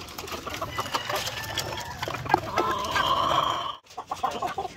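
Black Asil chicken on a farm clucks repeatedly in close, irregular bursts, with a drawn-out cackling phrase near the end over a background of other fowl and farmyard noise.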